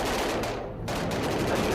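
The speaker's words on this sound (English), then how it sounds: "what started as sporadic gunfire quickly became overwhelming from all directions." Sporadic gunfire in a city of over two million, a sound effect of scattered shots with a brief lull and then denser firing building toward the end, fairly loud over a noisy background.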